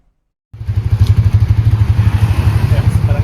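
A Suzuki GSX-S 150 motorcycle engine bursts to life after a moment of silence, then runs loud and close with a fast, steady thumping exhaust pulse as the bike rides off.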